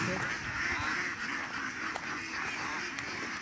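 Ducks quack at a village pond, soft, scattered calls heard from a little distance, while people talk nearby.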